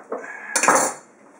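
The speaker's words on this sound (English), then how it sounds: "I'm going to chop it into a couple of chunks" Knife chopping a bar of soap into chunks, a single close, sharp cut with a scraping, clattering impact against the board, heard alone.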